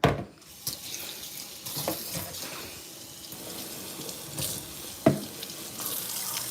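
Kitchen tap running into a sink while vegetables are washed, a steady hissing water stream with scattered clunks and splashes, fairly quiet and close.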